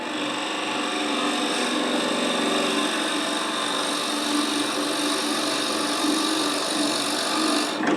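A Forstner bit in a drill chuck bores into a spinning wooden globe ornament on a lathe, giving a steady, close, loud grinding and scraping whir that holds evenly throughout without talk.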